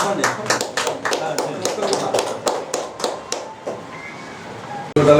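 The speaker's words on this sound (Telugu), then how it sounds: "చప్పట్లు మానేసినారా చప్పట్లు" Several people clap together at a gathering: a quick, uneven run of claps, fairly close and loud, that slows and thins out before stopping, with a brief burst of voice at the very end.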